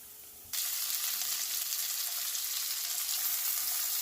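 Meat sizzles loudly in a hot pan, jumping from a quiet start into a steady, dense frying hiss as the rest of the ingredients go in, with no talk over it.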